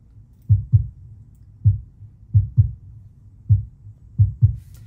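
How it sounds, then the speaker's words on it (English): A heartbeat-style kick drum with heavy reverb plays paired lub-dub thumps about once a second, deep, booming and alone, each pair trailing a soft reverberant tail. "So I have this heartbeat kick that I just put a bunch of verb on."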